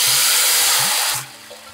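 Hog plums dropped into hot oil with panch phoron, a loud, dense sizzling hiss that cuts off sharply midway, leaving a quieter crackle and low hum.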